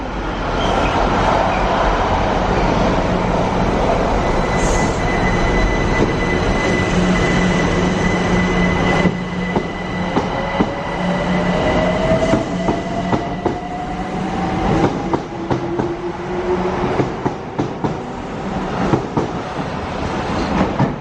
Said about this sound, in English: Just in time for a freight.